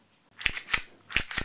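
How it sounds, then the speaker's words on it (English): A CO2 or green-gas recoil-enabled airsoft laser training pistol fires four sharp mechanical clacks in two quick pairs, close and crisp against a quiet background. "this is a recoil-enabled airsoft laser pistol"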